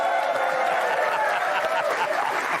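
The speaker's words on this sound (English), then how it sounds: "Hold your applause." Studio audience applause on a late-night comedy news broadcast, a steady dense wash of clapping with some crowd noise, sustained and fairly loud throughout.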